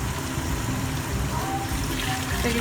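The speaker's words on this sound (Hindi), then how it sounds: "तकरीबन 8 प्याले पानी के डाल के इसको बॉईल होने के लिए रख देंगे।" Water, about eight cups, is poured into a cooking pot for vegetable pulao, making a continuous, close, rushing splash throughout with no speech.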